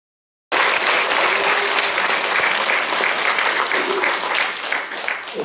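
A ceremony crowd claps for volunteers and a center director at a community service event, loud sustained applause starting abruptly and holding steady to the end.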